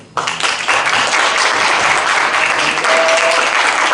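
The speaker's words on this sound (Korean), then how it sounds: "우리 박수로 한번." A church congregation breaks into applause, starting abruptly after a brief quiet moment and holding as a loud, dense, steady clapping from many people for the rest of the clip.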